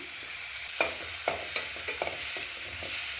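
Oil sizzles steadily in a pan as onions fry, broken by a few soft clinks and scrapes of stirring, with no voices.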